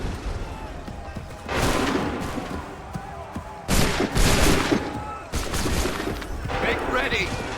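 Musket volley fire in the video game Assassin's Creed III, several loud crashing bursts of massed gunfire separated by short gaps, with shouted commands between volleys.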